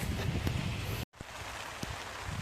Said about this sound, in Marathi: पाऊस चांगला जोरात यायला लागलं